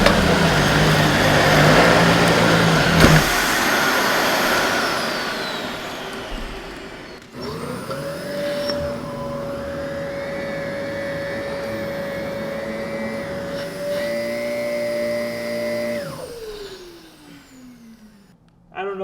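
Dyson vacuum cleaner sucking flour up from carpet: a loud, sustained motor whine with a rising pitch that holds steady for several seconds, then winds down near the end, preceded by rougher airflow noise.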